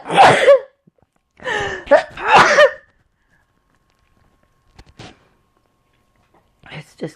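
A person coming down with a cold sneezes, with a few sharp, voiced bursts close to the mic in quick succession, then quiet with faint breathy sounds after.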